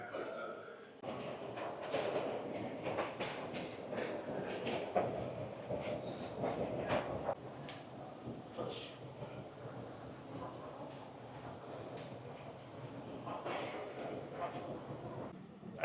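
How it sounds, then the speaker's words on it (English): Subway train riding, a steady rumbling hum of the carriage in motion with rattles and door-like clunks, continuous and fairly loud, with faint voices mixed in. "I'm really sick of spending a lot of time every day in the subway."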